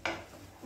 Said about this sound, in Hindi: चलाएंगे, अच्छी तरह से इसे मिक्स करेंगे।